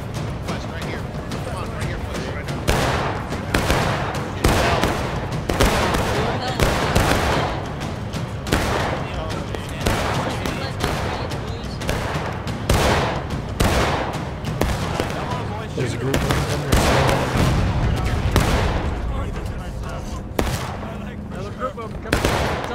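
Musket volleys crack and roll across a War of Rights line battle on the Soup Bowl map, dense repeated gunfire bursts with shouted commands from players talking throughout.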